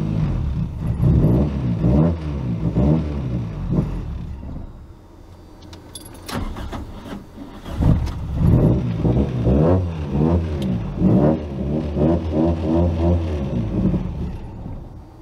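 A Toyota 4AGE engine idling rough and running too rich, with a steady uneven idle rumble and wavering pitch, brief rev-like surges and a light metallic jangle throughout.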